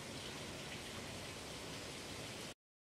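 Heavy rain pours down on a rainy day in a steady, dense hiss with no voices, then cuts off abruptly near the end.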